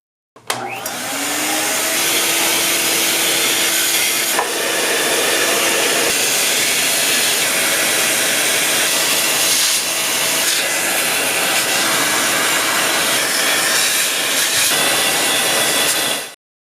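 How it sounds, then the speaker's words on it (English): A vacuum cleaner runs steadily while cleaning the parts of a 1985 Casio AS-20 keyboard amplifier, a loud continuous roaring whoosh held for about sixteen seconds with slight shifts in tone as the nozzle moves. "I'll give all the parts a good vacuum to remove as much loose dust and debris as possible"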